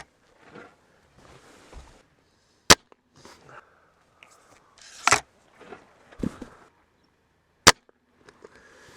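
A SIG ASP20 breakbarrel and an Aspen air rifle are fired: a few sharp, isolated shot cracks spaced several seconds apart, mixed with quieter handling clicks and shuffling noises in between.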